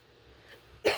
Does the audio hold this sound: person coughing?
yes